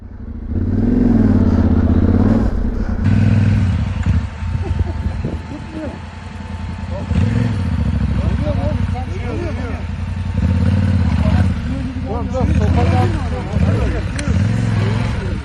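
A motorcycle stuck in sticky mud with a locked front wheel, its engine revving in loud surges and dips close by, with people talking and shouting over it.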